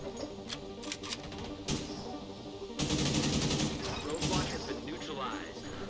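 Rapid bursts of automatic gunfire crackle in The Division 2 shooter, sharp repeated shots that swell into a dense, louder volley midway through and continue steadily to the end.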